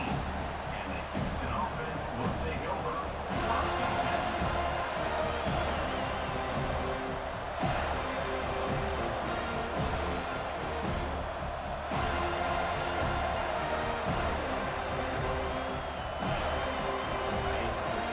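Home crowd roaring steadily at a college football game, FSU against Houston, a dense wash of cheering and noise in the stadium with a commentator talking over it throughout.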